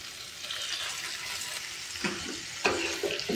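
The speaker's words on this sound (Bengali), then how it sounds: "মশলার সাথে মাংসটা অ্যাড করব" Chicken pieces frying with tomato and spices for chilli chicken, a steady close sizzle with a few louder scraping stirs toward the end.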